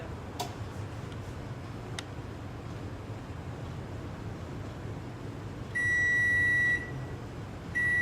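A kitchen timer ticks faintly and steadily while oatmeal raisin cookies bake in the oven, interrupted by a sustained electronic beep and a second short beep near the end.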